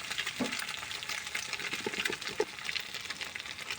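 Eggs fry lightly in a pan with a steady, soft crackling sizzle broken by small irregular pops, heard up close without speech.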